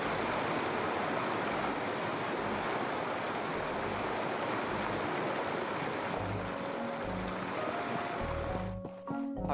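Waterfall in the video game My Time At Portia: a steady, loud roar of rushing water filling the scene throughout, with a few soft musical tones appearing near the end.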